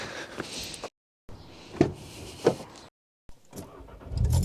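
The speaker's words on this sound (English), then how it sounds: "now when we turn the car on" A crash-damaged Audi S1 Quattro being switched on: clunks and clicks broken by short silences, then a low engine rumble building at the end.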